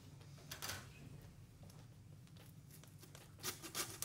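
A hand saw rasps through lamb ribs on a butcher's board, soft scraping strokes repeating with a few sharper rasps toward the end, close but faint.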